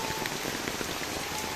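Steady afternoon rain falling on surfaces in a countryside village in Indonesia, a dense continuous patter of drops that stays even throughout with no voices.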